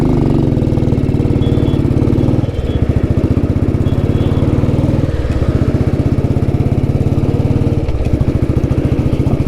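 A vintage Royal Enfield Bullet motorcycle engine runs right after starting, its loud, steady single-cylinder thump close by and alone, with slight dips in the beat every few seconds.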